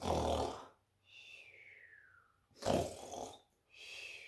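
Children and an adult voice imitate a dragon snoring during a storybook reading, with long breathy snore sounds, a rising-falling whistly exhale between them, and another snore swelling again at the end.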